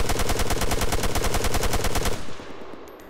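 An MX 6.5 mm rifle in Arma 3 fires a loud, rapid full-auto burst of evenly spaced shots for about two seconds, then stops and the sound decays into a short echo.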